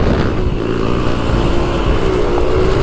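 Dirt bike engine droning steadily while riding on trails, a continuous loud motor hum with a rising pitch tone, no voices.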